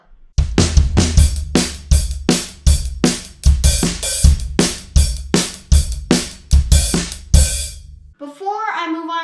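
A drum kit plays a song's beat at full tempo, steady kick and snare hits ringing with cymbal wash and ending in a fill, after which a short voice follows.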